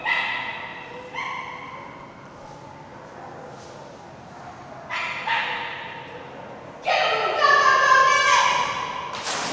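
A dog barking and yipping excitedly at a dock diving air retrieve event, several bursts of barks with a longer, louder run of yelps near the end and some faint commotion in between.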